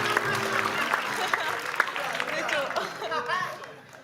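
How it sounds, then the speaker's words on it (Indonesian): An indoor audience applauds in a dense burst of clapping mixed with chatter and some laughter, with voices speaking over it as it fades. "tepuk tangan untuk Yewen, tidak apa-apa."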